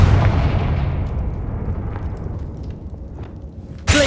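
A Confringo explosive spell cast in Hogwarts Legacy lands with a booming blast that rumbles and fades over several seconds, followed by a sharp new burst at the very end.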